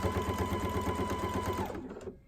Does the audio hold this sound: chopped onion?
no